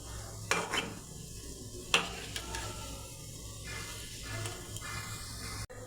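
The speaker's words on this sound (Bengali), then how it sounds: "এক খোলা মিষ্টি ভাজা হয়ে গেছে, বাকিগুলো আমি এইভাবে ভেজে নেব।" Atta gulab jamun sweets fry in a pan of oil, a soft continuous sizzle punctuated by a few sharp clinks of a spoon against the pan, close and alone without talk.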